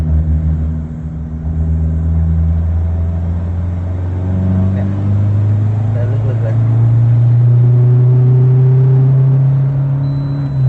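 Isuzu D-Max 1.9 pickup engine (2020 model) accelerating while driving, a steady loud low drone that rises in pitch as it pulls in gear, with someone talking over it throughout.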